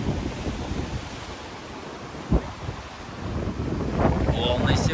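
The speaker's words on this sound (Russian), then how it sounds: "Волны сегодня не маленькие." Sizeable waves wash against the shore below a seaside promenade at Olhos de Água near Albufeira in the Algarve, Portugal, a broad rumbling surf heavily buffeted by wind noise.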